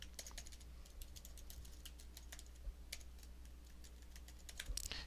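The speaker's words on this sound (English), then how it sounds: "And then I'm going to type in my" Fingers type quickly on a computer keyboard, a quiet, steady patter of light clicks with a few heavier key strikes.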